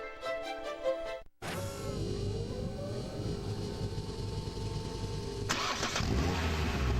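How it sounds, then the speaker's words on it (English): A car engine cranks and catches after a short pause, then settles into a loud, steady rumbling idle as it warms up, with a brighter surge of revving near the end. "This is the sound of a car engine."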